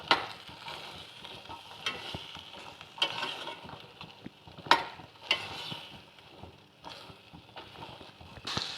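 Black chickpeas roasting in a pan with chaat masala, a steady soft sizzle broken by repeated scraping and stirring strokes, close and moderately loud.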